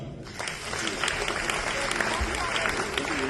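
Audience applause for actors after a Punjabi stage play at a cultural association event in Calgary, Canada: a dense, steady clapping of a sizable crowd that starts quickly and holds evenly throughout, with a voice talking over it.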